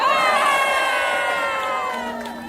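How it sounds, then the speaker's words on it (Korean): A large crowd at a Korean political gathering cheers and shouts loudly and steadily, voices blending into a bright, sustained roar that fades slightly toward the end. "박수!"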